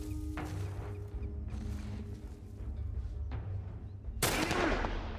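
Gunfire in The Last of Us, a few scattered shots in a quiet game scene, then a loud burst near the end.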